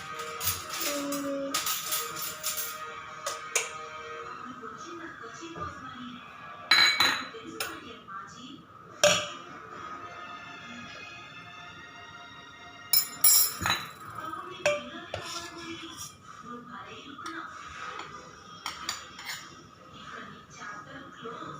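A metal spoon clinks and taps against a small cup in a series of sharp, bright chinks, some clustered and some spaced apart. Voices can be heard speaking intermittently in the background.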